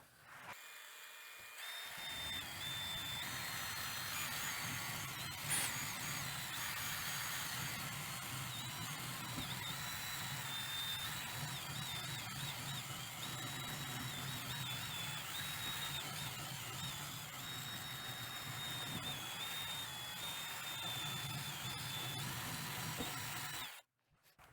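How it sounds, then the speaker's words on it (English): Sanding on a guitar neck rasps steadily for over twenty seconds, a continuous close grinding hiss that starts and stops abruptly, with no voices. "just some sanding"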